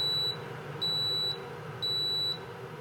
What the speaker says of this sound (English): You cannot disable that beeping.